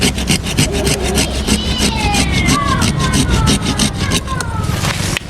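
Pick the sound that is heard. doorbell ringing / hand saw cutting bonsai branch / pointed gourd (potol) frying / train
hand saw cutting bonsai branch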